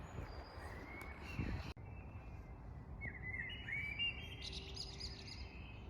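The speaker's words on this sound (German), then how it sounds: "5:30 Uhr am Morgen sind die Vögel am lautesten." Birds sing and chirp at about 5:30 in the early morning, bright twittering calls that grow busier toward the end, with a soft outdoor background and no talk.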